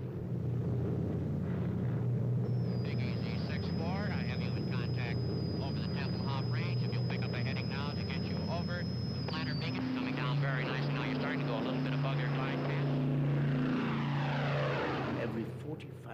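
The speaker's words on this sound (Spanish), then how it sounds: "Cada 45 segundos, aviones procedentes del oeste sobrevolaban Kleinmachnow, la academia más importante del partido, para aterrizar en Tempelhof." Propeller airplanes fly over during the Berlin Airlift, heading in from the west every 45 seconds to land at Tempelhof. Their steady, loud engine drone is heard alongside a high whine and other sounds.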